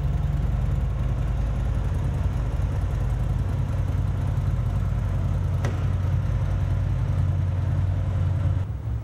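A Big Dog motorcycle engine runs steadily on a dyno in an emissions lab, a loud continuous low rumble at constant speed with a brief click midway.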